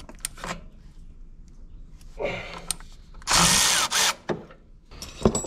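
Ratchet wrench with an extension tightening the alternator belt on a crane truck engine, a few short bursts of clicking followed by a longer loud ratcheting run and quicker strokes, close by.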